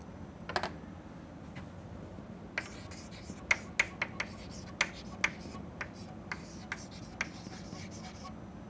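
Marker or chalk strokes drawing velocity triangles on a board, a series of short, sharp taps and scratches spaced irregularly over steady room hum, fairly close and moderately loud.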